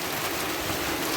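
Heavy rain pours in a dense, steady hiss that stays constant and fills the space throughout, with no voices.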